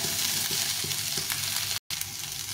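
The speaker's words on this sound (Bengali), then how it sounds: "মাছের তেলের মধ্যে এটা ভেজে নিলাম।" Young jackfruit fries in oil left over from frying fish, a dense, steady sizzle heard up close that cuts out for a moment before resuming, with no voices.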